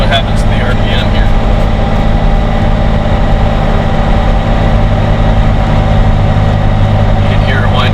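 Jeep Wrangler JK engine labouring up a hill, a low steady drone as the revs sag and power fades, heard from inside the cab with someone talking over it.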